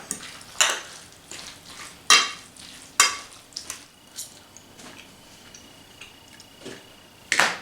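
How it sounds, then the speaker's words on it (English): A spoon stirring cooking liquid into brown sugar BBQ pulled pork in a pot, with sharp intermittent scrapes and clinks against the pot at irregular intervals, fairly quiet and close, with no talk. "what I'm going to do is stir enough of the cooking liquid to moisten"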